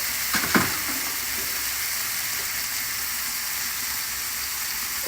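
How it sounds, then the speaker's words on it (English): Beef tenderloin sears in a hot pan with a steady, loud sizzle that holds throughout, broken near the start by a couple of brief clanks or stirring knocks. "We're getting good and hot. Get a little bit of a sear on it."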